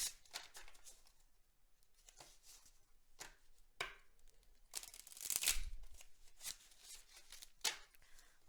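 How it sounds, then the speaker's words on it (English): Close, quiet shuffling of tarot cards in irregular bursts of riffling and flicking, with soft rustling between bursts and no speech. "One more shuffle."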